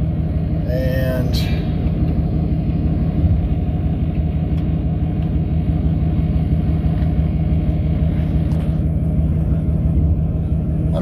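A Duramax diesel truck engine runs steadily while warming up, a loud continuous low rumble close by, with someone talking over it.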